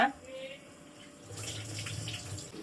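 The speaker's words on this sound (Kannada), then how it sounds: "ಈಗ ಟೂ ಟೈಮ್ಸ್ ಅಕ್ಕಿ ವಾಶ್ ಮಾಡ್ಕೊಂಡ್ಬಿಡೋಣ" Rice being washed in water gives a soft, steady swish and trickle of running water close by, growing slightly fuller partway through, with faint voice traces beneath.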